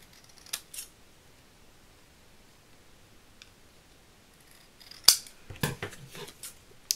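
Scissors trim the edge of a homemade advent calendar, a few quiet snips early on and then a denser cluster of sharp cutting clicks near the end, close by with no talking.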